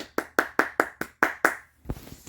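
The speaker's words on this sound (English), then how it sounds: "That's me clapping" A single person claps their hands seven times in a quick, even rhythm, each clap crisp and close, then a softer, muffled knock or shuffle follows at the end.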